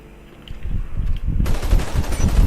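Rapid automatic gunfire from the zombie shooter game Umbrella Corps bursts in loudly after a brief low rumble, continuing as a dense, harsh stream of shots to the end.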